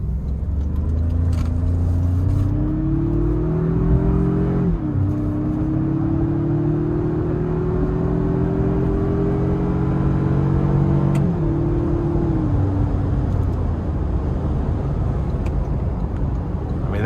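A 2025 Toyota 4Runner TRD Off-Road Premium with the i-Force Max turbo engine accelerates in sport mode, a steady loud droning rumble whose pitch climbs through gear shifts, with a drop near five seconds and another near twelve.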